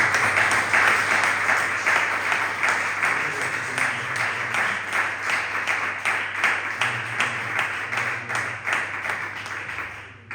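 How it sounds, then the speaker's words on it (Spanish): A church congregation claps for God in a strong, rhythmic unison beat. The loud, steady pulses hold for about ten seconds over a low hum, with faint voices mixed in before the clapping tapers off. "Dale un fuerte aplauso a Dios"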